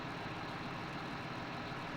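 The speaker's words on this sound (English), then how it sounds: "There's like a weird idling sound." A low, steady tractor engine idle in Farming Simulator 17 drones on evenly and faintly, with a slightly fuzzy, artificial texture and no talking.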